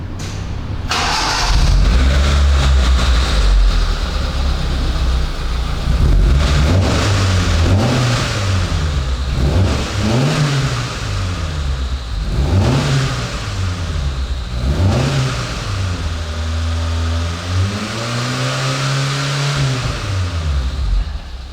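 A Proton Wira engine starts and revs repeatedly through a scrap muffler with a rough, throaty exhaust note, rising and falling in bursts before settling into a lumpy idle.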